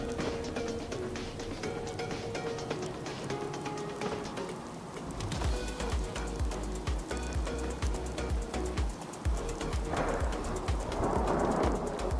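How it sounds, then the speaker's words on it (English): Steady rain in an RPG Maker video game hisses continuously with low rumbles like distant thunder, building slightly louder toward the end. "It's raining once again."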